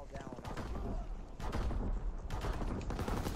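Rapid, sustained gunfire in a shooter video game: dense bursts of shots crackling almost continuously, with heavier volleys after about a second and a half, loud and close throughout.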